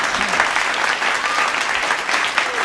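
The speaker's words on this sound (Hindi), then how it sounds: "ताली हो जाए साहब एक बार मुझे।" An audience at a comedy satire performance claps steadily in a dense burst of applause, many hands at once, fairly loud and sustained without pause.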